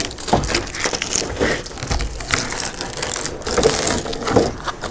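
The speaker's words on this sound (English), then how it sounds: "just grab a hold of the gasket and pull it off the body" An old rubber windshield gasket being pulled off the body of a 1973-1987 Chevy truck, giving close, continuous crackling and crunching with irregular scraping bursts.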